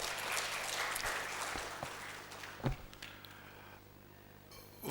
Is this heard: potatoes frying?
no